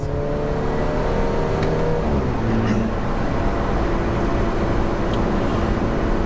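An Alfa Romeo 4C Track Edition's small 1.7-litre four-cylinder engine runs steadily at close range, humming and rising slightly in pitch as it revs.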